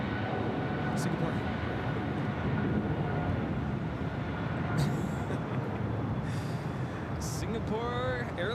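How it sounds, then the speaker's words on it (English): A Singapore Airlines Boeing 777-300ER taking off from LAX for Tokyo Narita, a constant loud broadband engine roar, with brief clicks and a faint whistle toward the end. "Singapore Airlines Flight 11 taking off to Tokyo Narita on the 777-300ER."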